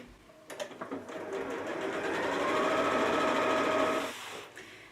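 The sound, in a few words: sewing machine sewing two fabric pieces together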